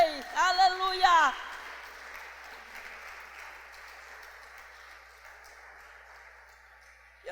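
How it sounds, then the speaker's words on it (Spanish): A church congregation's applause fades in after a short spoken phrase and carries on as a soft, distant patter of clapping that slowly thins out over several seconds. "Denle una ofrenda de aplauso al Rey."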